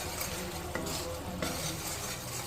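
Masala for dahi katla frying in a pan over lowered heat, a steady close sizzle and crackle with a couple of soft utensil scrapes and a light clink at the end.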